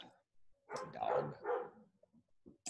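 A dog barks several times in short, close bursts, with a brief yelp at the end, heard alone without talk over it.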